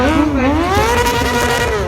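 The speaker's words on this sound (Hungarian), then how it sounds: "150 lóerő, az ZX636-os Kawasaki" A 150-horsepower Kawasaki ZX636 motorcycle at a stunt show revs close up with a loud, rising and falling engine whine, held steadily high for a couple of seconds under faint background talk.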